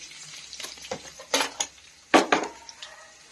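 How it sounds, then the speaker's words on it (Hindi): Red chillies are dropped into a pan of roasted cumin, giving a few sharp sizzling bursts and stirring scrapes up close, with quiet crackling between them and no talking. "अब हमारा जीरा भून गया है तो बस मैं इनको डाल देती हूँ।"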